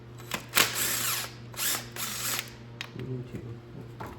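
Power tool whirring in short bursts while undoing the two center valve cover bolts on a 2008 Ford Focus engine, loud close bursts with ratcheting, then quieter mechanical handling at the end.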